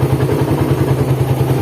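A cold Suzuki Satria FU motorcycle engine idles roughly with a steady, loud mechanical clatter and a pulsing low throb, heard close and alone.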